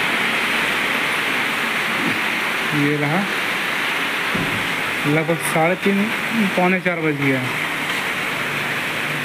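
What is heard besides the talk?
heavy rain pouring outside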